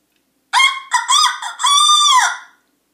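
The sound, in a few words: person imitating a chicken with their voice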